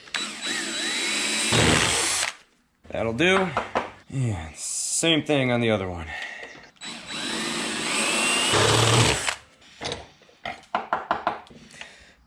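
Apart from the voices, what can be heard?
power drill drilling through metal bracket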